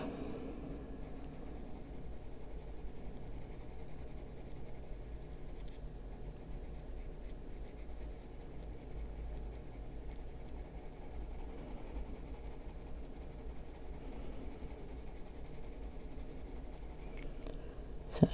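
Colored pencil scratching steadily on a paper coloring page, a soft continuous scratchy rasp up close with light pressure, going on for many seconds without talk.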